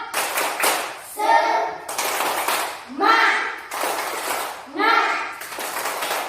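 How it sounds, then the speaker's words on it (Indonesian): An Indonesian class or training group performs the tepuk semangat spirit clap, with sharp patterned clap bursts alternating with short pauses and voices calling out between them, close and fairly loud. "Tepuk semangat."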